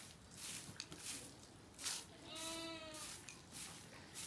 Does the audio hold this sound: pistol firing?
no